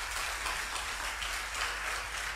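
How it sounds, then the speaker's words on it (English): A high school debate audience gives a round of applause, a dense, steady wash of many hands clapping at a moderate distance, sustained without pause. "A round of applause for the two of them, please."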